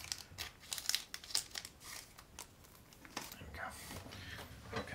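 A small plastic bag from a Foldscope paper microscope kit crinkles and rustles softly and continuously at close range, with scattered crisp crackles and no speech.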